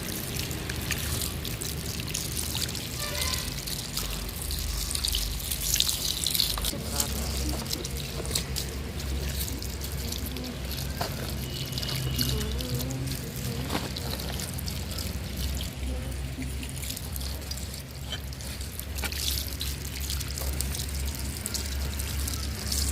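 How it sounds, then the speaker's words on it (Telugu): Water is poured steadily onto freshly seeded soil in grow bags on a home terrace vegetable garden, a continuous close trickle and splash that runs on throughout with low background noise. "వాటర్ అన్నది మనం పెట్టేసుకోవాలి ఇలాగా అన్నిటికి కూడా"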